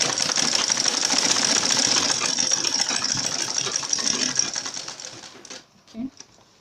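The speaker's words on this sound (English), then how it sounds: "this is what you're going to do" A sewing machine stitches backpack fabric, running fast in one continuous close, loud whirring burst before stopping, with a few faint clicks afterward.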